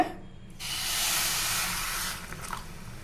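A cup of water poured into a hot pan while making bread halwa bursts into a sizzling hiss that rises and holds for a couple of seconds, then fades with a few soft crackles.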